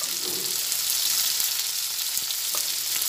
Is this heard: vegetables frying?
yes